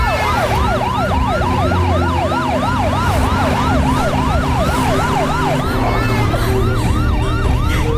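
An ambulance siren wails loud and close in a fast, repeating rise-and-fall pattern over a low vehicle engine rumble, on the way to a hospital at night.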